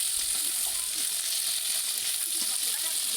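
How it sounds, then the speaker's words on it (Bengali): Salt-and-chili marinated chicken pieces fry in hot oil for a roast, giving a continuous dense hiss and crackle close by with no voices. "রোস্টের জন্য লবণ আর শুকনো মরিচ দিয়ে মাংস কিছুক্ষণ ম্যারিনেট করে রাখলে আর ওইটা ভাজলে"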